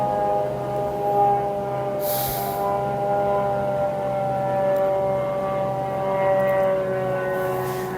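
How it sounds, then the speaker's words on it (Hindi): An Iranian drone flying over Kuwait, a sustained droning engine hum with steady tonal harmonics, loud and continuous over a constant background, with no talk. "कुवैत जाता हुआ ईरान का ये ड्रोन सीधे रफ्तार में जाता है और टारगेट को हिट करता है।"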